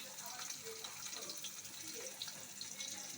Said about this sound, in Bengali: জল অর্থাৎ জল দিয়ে দিন।